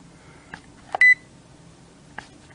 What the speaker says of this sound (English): And then the other one is a beep, and I don't know what that means.